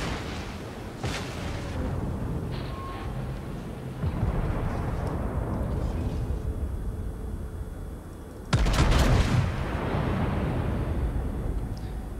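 Warship guns fire in World of Warships, the player commanding the battleship New York. Heavy booming salvos land near the start and again louder past the middle, each followed by long rumbling echoes over continuous low engine noise.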